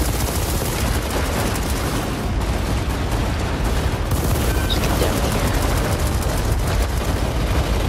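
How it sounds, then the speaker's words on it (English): Dense, continuous long-range gunfire in the video game Planetside 2, loud overlapping bursts and booms blending into a constant roar with no pauses and no voices. "Long range shooting."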